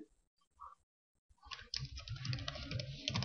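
Keys on a computer keyboard clatter in a fast, dense run of typing after a short quiet start, close by and moderately loud, while code is entered.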